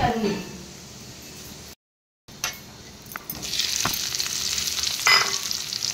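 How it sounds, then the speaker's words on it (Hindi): Water spinach and onions sizzle and hiss in a hot pan, a steady close frying noise with stirring clinks, briefly cut off, while a person talks over it. "कलम शाग पियाज पड़ी कलम शाग भजा हम"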